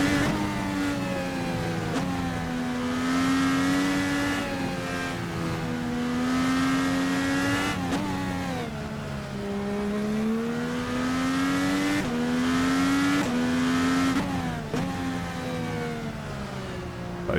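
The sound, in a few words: Formula NA Indycar engine in rFactor 2 racing game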